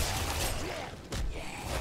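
Fire and explosions in the Diablo III: Reaper of Souls video game, a dense, continuous crackle and rumble of rapid blasts with one sharper burst midway, fairly quiet in the mix.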